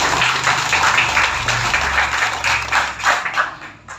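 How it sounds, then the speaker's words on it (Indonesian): Crowd applause at an FKDM Bogor chapter inauguration ceremony, a dense steady patter of many hands clapping for about four seconds with no speech, fairly loud and even throughout. "tepuk tangan buat kita semua"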